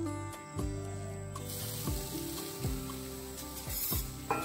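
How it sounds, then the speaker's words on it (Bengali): About 150 grams of sugarcane jaggery and fresh grated coconut cook in a wok with a soft, fairly quiet sizzle. Rhythmic scraping stirs recur roughly every second over it, with no talk. "এবার এই গুড়ের সঙ্গে নারকোলটাকে আমি একটু মিশিয়ে নেব।"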